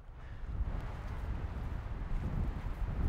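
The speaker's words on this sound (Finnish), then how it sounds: "Melkoinen tuuli käy täällä" Strong wind blows across the Vätsäri wilderness, buffeting the microphone with a low, gusting rumble and a continuous rushing sound.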